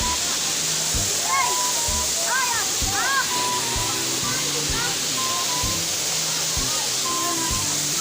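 River water rushing steadily and close while people bathe and swim, with distant voices, shouts and splashes faintly over the constant flow.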